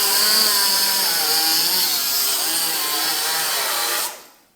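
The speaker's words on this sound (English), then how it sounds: "I'm gonna smooth down the areas I welded that the sheet metal has to sit against" A power tool grinds down welds on the sheet metal of a custom firewall for a 1960 Auto Union 1000SP, giving a loud, steady, high whine that runs continuously and then cuts off and spins down.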